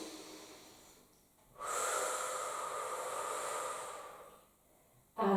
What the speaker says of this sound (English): So we're just going to do another deep breath.